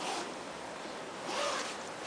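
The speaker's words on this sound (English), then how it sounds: "I can put a zipper in there or a button closure." Clothing zipper pulled along its track, a continuous close scratchy rasp lasting about two seconds, swelling slightly in the middle, with no voices.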